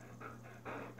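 A dog pants in quick, steady breaths with soft whimpering in between, close to the microphone, in a quiet room with no talking.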